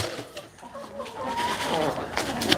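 Roosters cluck and squawk agitatedly over a noisy outdoor background, with a few sharp cries near the end.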